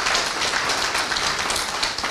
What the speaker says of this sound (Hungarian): óriási taps a részvevőknek